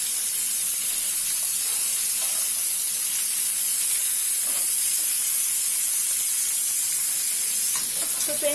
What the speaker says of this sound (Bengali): আমার মাছ ফ্রাইটা হয়ে গেছে, হালকাই ভাজা হয়